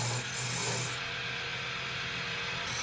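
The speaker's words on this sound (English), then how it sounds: "In scraping, the tool is held at right angles to the timber." A turning tool held at right angles scrapes timber spinning on a lathe in spinning-wheel making, giving a continuous, even rasping hiss over a low motor hum, close and steady.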